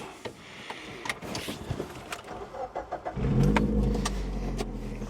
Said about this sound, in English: It sounds pretty good even with missing half the exhaust